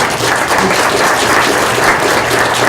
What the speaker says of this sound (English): Let's give these guys a nice round of applause